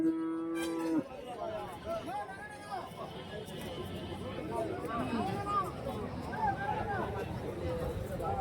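Jersey cow lowing at a busy Sunday cattle and sheep market in Santhipuram, Andhra Pradesh: one long moo opens the clip, followed by other cattle calling over steady crowd chatter and market hubbub.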